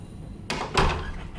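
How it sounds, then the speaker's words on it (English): A door is pushed shut indoors, giving a soft bump and then a firmer thud about a third of a second later, close by and with no talk over it. "All right, close this door."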